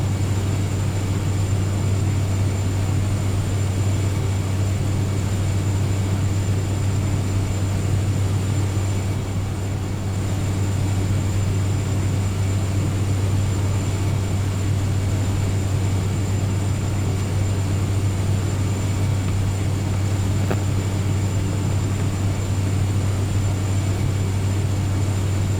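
A DHC-3T Turbo Otter floatplane accelerates for takeoff from the water, its turbine engine a steady, loud, continuous roar with a strong low hum that persists unchanged throughout, no voices heard.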